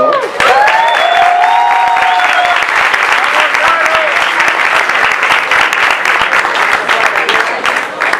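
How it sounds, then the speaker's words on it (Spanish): A panel audience on mass extinctions claps loudly and continuously, a dense full-room applause with a few whistles or cheers in the opening seconds, sustained without a break. "Un aplauso, por favor."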